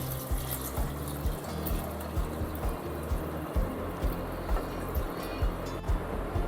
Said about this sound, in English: This I'll be adding some water.